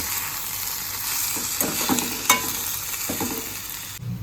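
Methi bhaji with onion and tomato sizzles in a pan as it is stirred, giving a steady frying hiss broken by a few scraping, clattering strokes of the spoon.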